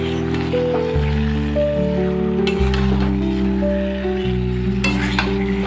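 Chicken and potatoes with spices being stirred in a pan over low heat, a steady close sizzle of frying running throughout with scraping stirs layered on top, beneath a sustained tonal background.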